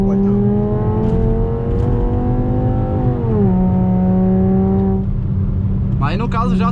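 A five-cylinder Volkswagen Jetta with a straight exhaust revs up loud and close, its engine pitch climbing steadily and then dropping back to idle, with a voice breaking in briefly near the end.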